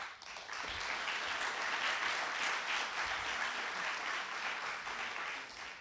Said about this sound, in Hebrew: למחות להם כפיים.